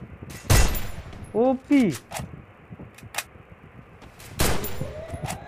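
Free Fire game gunfire, M1882 and MP40 fights: sharp loud shots burst out near the start and end, with a whooshing swept effect between and someone talking briefly over the action.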